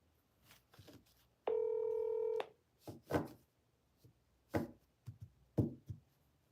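A phone emits a single steady electronic tone for about a second amid scattered soft knocks and handling noises close by, with no talk.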